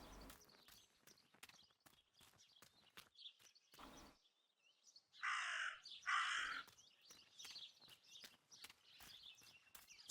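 In the video game Martha Is Dead, a raven caws twice in a harsh, loud, close pair of calls, set between quiet rhythmic footsteps and ambient sounds.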